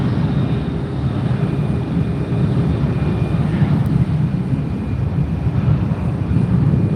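Jet airliners at Fort Lauderdale International Airport, heard as a loud, steady engine roar that continues unbroken throughout, with no speech.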